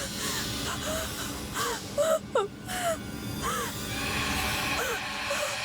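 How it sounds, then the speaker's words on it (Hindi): A woman's crying and whimpering in a Hindi horror TV serial drifts through a tense night setting, with wavering sobs and gasps rising and falling over a steady background of ambience for several seconds. "कौन रो रहा है?"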